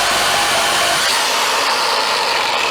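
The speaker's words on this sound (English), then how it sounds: "Today we're going to make my Corolla sound louder using a Sawzall." A reciprocating saw cuts into the exhaust of a 1980 Toyota Corolla with a 3TC engine, giving a loud, continuous, harsh buzzing rasp heard close up with no voices.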